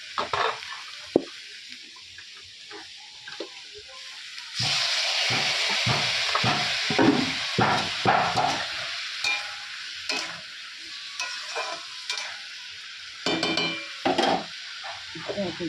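Pumpkin stirred and sizzling in a pan after water goes in, a quieter start giving way at around four seconds to a loud, steady hiss with scraping stir strokes throughout.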